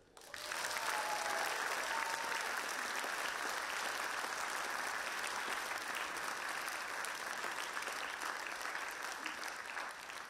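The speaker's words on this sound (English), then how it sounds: "So please give a very warm round of applause to Marcus Tebogo Desando." Sustained, dense applause from a theater audience at a Nelson Mandela lecture and festival event, rising quickly and holding steady and loud for about ten seconds with no speech.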